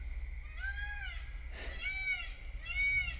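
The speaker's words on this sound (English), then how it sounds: "Can you hear the peacock in the background?" A peacock calling in the background at a campground bird farm, with three faint wailing cries under a steady low hum from a fan.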